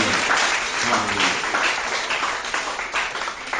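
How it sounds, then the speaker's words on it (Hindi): A church congregation claps loudly for the Lord during a Hindi sermon, a dense, sustained burst of applause that fills the room with steady, slightly uneven clapping. "प्रभु के लिए जोरदार ताली।"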